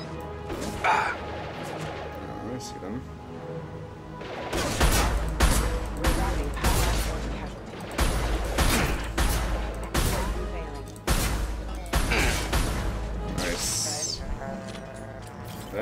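Weapon fire during a Mass Effect 2 firefight: repeated sharp bursts of shots in an uneven rhythm, loud and close, with a player talking over much of the combat.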